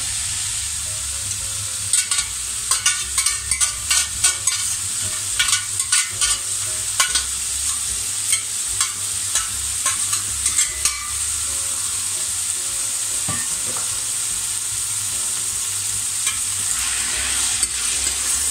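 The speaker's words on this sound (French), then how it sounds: "Quand mon huile commence à chauffer, eh bien je mets tout simplement mes poireaux dedans." Chopped leeks frying in hot olive oil, a continuous close sizzle broken by repeated spatula scrapes and stirring clatter through the first half, then settling into steady crackling, no voices.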